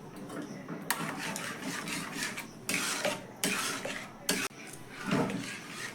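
A spoon stirs mango paste into a chilled mango dessert mixture in a bowl, giving close, repeated scraping and clinking against the dish with a few sharper knocks and no talking.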